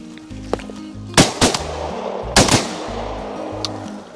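Shotguns fire during an evening duck hunt on the opening day of the season, with two loud close pairs of blasts echoing across the open marsh and a steady engine-like drone beneath.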